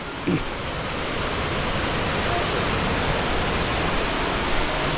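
Waterfall at Kambal Busay in the Philippines, a broad, constant roar of falling water filling the whole clip at steady loudness, with a faint voice early on.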